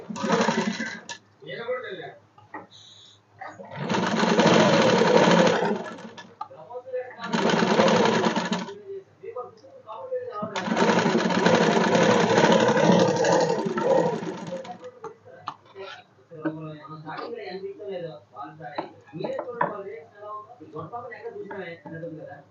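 Sewing machine stitching a round neck, loud close whirring runs in three main bursts of one to four seconds, with someone talking before, between and after them.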